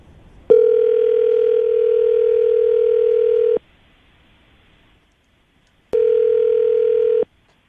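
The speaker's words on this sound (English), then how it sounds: "I'm going to dial the phone number right now" A steady telephone dial tone sounds clearly for about three seconds, stops, then returns briefly after a pause of silence.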